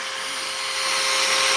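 A power drill runs continuously in a garage, a loud, steady high-pitched whine with a broad hiss that holds without a break and grows slightly louder toward the end.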